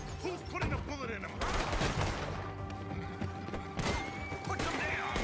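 Gunfire in a brutal saloon fight in Red Dead Redemption 2, a chaotic run of shots and crashing impacts with people talking and shouting throughout.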